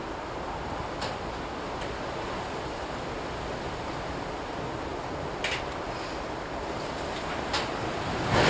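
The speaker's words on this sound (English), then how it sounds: "actually getting a bit windy now." Wind gusting steadily outdoors as a locomotive model is renumbered, a constant broadband rush with a few brief clicks and a slight swell at the end.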